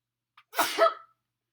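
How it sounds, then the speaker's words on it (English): A single sneeze, close and abrupt, with a short sharp intake just before the explosive burst. "another sneeze"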